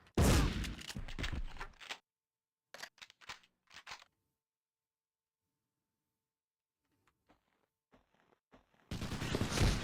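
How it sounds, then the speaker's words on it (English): A shotgun fires in the Medal of Honor Underground game, with loud sharp blasts in a cluster at the start, a few quieter clicks and handling sounds in the middle, and another loud burst at the end, separated by near silence. "I love this shotgun."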